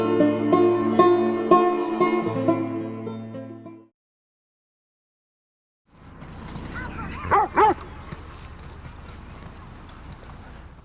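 Buckley the dog in The Last of Us Part II gives a couple of short close barks over game ambience, following a stretch of music and a moment of silence.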